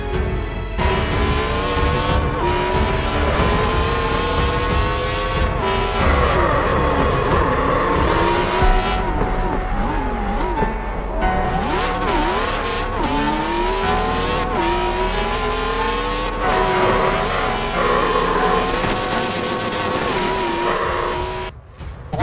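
A car in the Forza Horizon 4 racing game, billed as the fastest-accelerating vehicle in it, roars loudly and steadily as it accelerates and revs through gears, with tire squeal and rising engine tones throughout.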